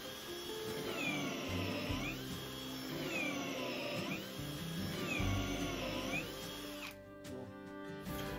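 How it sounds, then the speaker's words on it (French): A power drill bores a hole into a wooden workbench for bench dog stops, its whining motor running steadily and changing pitch under load for several seconds before winding down near the end. "Là évidemment je suis droit, donc je peux continuer sans le guide de perçage."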